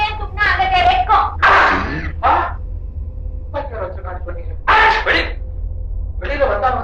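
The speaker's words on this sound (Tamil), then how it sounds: "பெட்ரூம்ல ஒரு தும்மல்" A single sneeze in a bedroom, sharp and nearby, set among people talking and some dull thumps.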